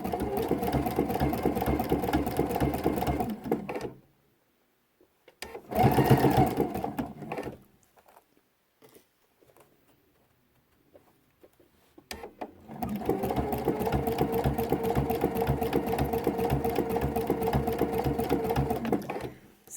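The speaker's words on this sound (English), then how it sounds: "the left side of this zigzag stitch will be stitching either right on the edge or just off the edge of the" Sewing machine running a zigzag stitch along quilt binding: steady fast mechanical whirring for several seconds, a pause, a short burst, a long silence, then another sustained stretch of stitching, close and clear.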